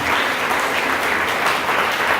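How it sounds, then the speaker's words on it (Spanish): A church congregation applauds together in a dense, steady burst of clapping that fills the room, loud and continuous with no voices on top. "demos un aplauso al Señor"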